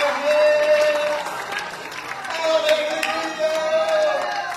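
Church congregation clapping hands during a lively worship service, dense continuous applause-like clatter with crowd voices and singing mixed throughout.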